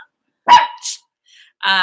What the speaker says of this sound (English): Mr. FedEx is here. So Luna's barking